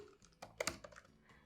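Typing on a computer keyboard, a short burst of close, quiet key clicks with one louder cluster in the middle, no talking.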